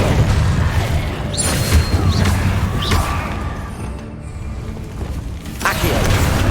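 A Depulso spell cast in Hogwarts Legacy: a loud rumbling blast with whooshing and crashing impacts amid dense game noise, fading briefly before another burst swells near the end.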